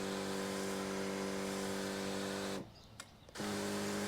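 Flow Zone Cyclone 3 battery backpack sprayer motor running steadily with a strong hum, cutting out briefly near the end and then starting up again.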